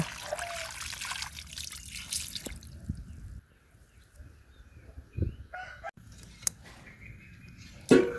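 Water runs and trickles while mackerel is rinsed, a steady splashing wash that drops away partway through before brief drips return. A rooster crows faintly in the background.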